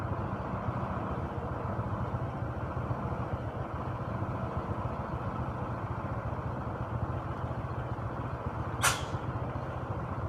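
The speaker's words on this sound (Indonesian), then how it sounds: "Bus pariwisata." A tourist bus passes on a newly built village road, its engine a steady low drone that holds throughout, with a brief sharp hiss like an air brake near the end.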